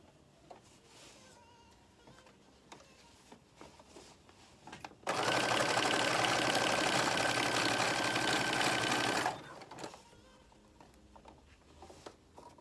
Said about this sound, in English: So I am going to put some black thread into my machine, and I'm going to stitch on this side